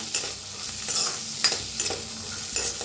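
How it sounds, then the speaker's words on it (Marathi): Chickpeas and peas roast in hot oil in an iron kadhai, a close, steady sizzle broken by repeated scraping stirs of a spatula against the metal. "तेल वतून भाजून घ्यायचं"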